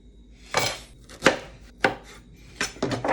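A knife chops through a piece on a cutting board, four crisp separate thwacks spaced irregularly over a few seconds, close and alone.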